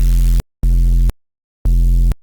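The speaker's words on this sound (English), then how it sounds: "I'm just going to go back to the white noise for now" Three bursts of broad white noise from the Serum 2 software synthesizer with a low buzzing tone underneath, each cutting off abruptly into silence, loud and close.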